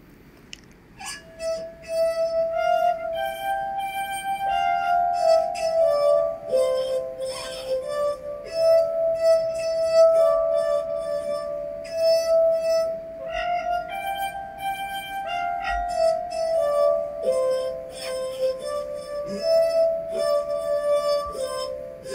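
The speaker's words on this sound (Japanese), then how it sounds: "次はワイングラスでエリ先生に第九を演奏していただきます" Wine glasses played as a glass harp carry a slow, pure melody from Beethoven's Ninth, with clear ringing sustained tones, gentle swells and soft overlapping notes, heard alone at moderate volume.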